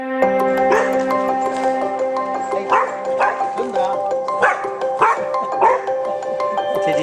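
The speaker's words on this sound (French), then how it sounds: "arrête de japper, là." A dog barks and yaps in repeated bursts, fairly close, with a steady tonal hum running underneath.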